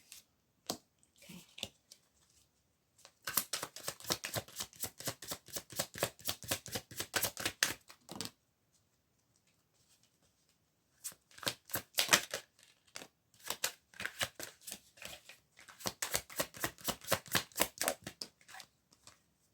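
Cards being shuffled and drawn for a reading, bursts of rapid riffling flutters in two long runs separated by quiet pauses, close and crisp.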